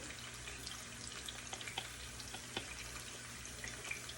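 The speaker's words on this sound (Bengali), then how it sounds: "আমি ভাজিটার মধ্যে একটু পাঁচফোড়ন দিয়ে বসাই" Vegetable bhaji with panch phoron spices frying in a pan, a steady close hiss and sizzle with scattered small pops and crackles throughout, no talking.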